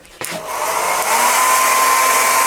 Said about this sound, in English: So let me get my hairdryer and give that a bit of a blast.